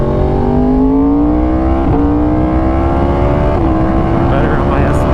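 Yamaha R1 sport motorcycle riding at speed with clutchless auto-blipping downshifts, a loud close engine drone whose pitch climbs steadily between brief dips at each gear change, with wind roar throughout.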